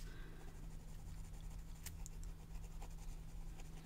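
Soft, continuous scratchy strokes of a colored pencil drawing a face on paper, close and quiet, with a steady low hum beneath.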